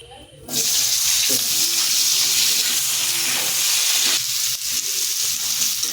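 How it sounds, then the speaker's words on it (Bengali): Potatoes frying in oil, a loud continuous hiss and sizzle that starts abruptly and holds steady, with faint clatter beneath and no talk. "এবার আলু ভেজে নেব"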